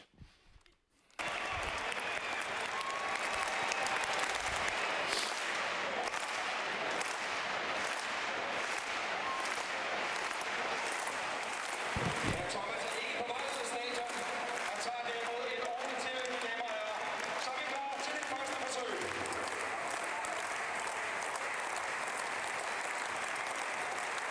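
Audience clapping in rhythm during a football throw-in world record attempt, building into continuous loud applause and crowd noise for most of the stretch, with a voice audible over it partway through.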